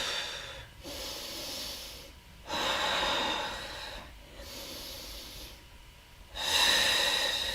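Slow, deep breaths drawn in and let out during a held plank in a vinyasa yoga flow, close and soft, with four long breathy exhalations separated by quiet pauses.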